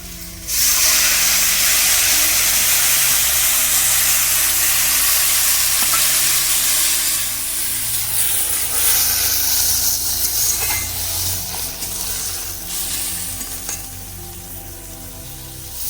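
Water poured into a pan of cooking lote shutki sets off a loud, steady, close sizzle and hiss that holds for the whole stretch and eases off only slightly toward the end.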